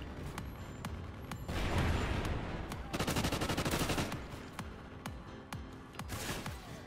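Bursts of MTAR-X rifle fire in Call of Duty: Ghosts multiplayer, rapid repeated shots crackling close and loud in clusters with brief gaps, over a steady game background.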